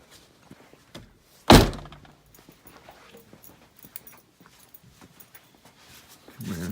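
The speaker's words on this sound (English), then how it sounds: "Pull that. Hood opens" A single sharp thunk as the hood of a Chevrolet S10 truck pops open after its release lever is pulled, close and solid, followed by quiet handling noises.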